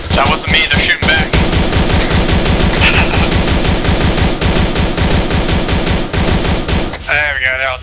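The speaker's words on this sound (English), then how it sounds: "They're shooting back." Sustained gunfire in the military video game Arma 3 during a Sangin patrol, rapid continuous bursts of automatic fire with fast rhythmic reports, loud and near throughout, with brief voices mixed in.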